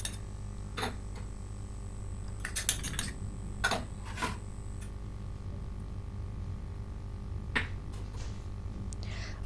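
A spoon knocks and scrapes in a bowl while spiced soya chunks are mixed, giving a few sharp metallic clinks in scattered bursts over a steady low hum, with no talking.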